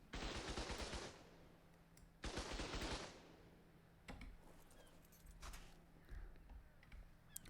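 Rapid automatic fire from a fast-turning super turret defending a base in Ark: Survival Evolved, two loud sustained bursts of about a second each, followed by scattered fainter shots and clatter.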